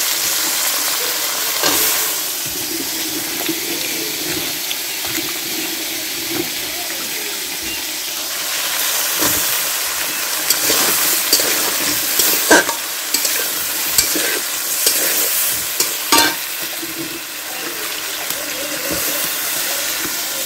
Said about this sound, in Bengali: এই যে চুলাতে রান্না করতেছি মশলা কষে উঠছে